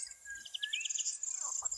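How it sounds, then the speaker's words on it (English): Faint high-pitched bird calls and a thin, continuous insect trill drift in from a distance, quiet and unbroken. "Listening to birds singing, frogs croaking,"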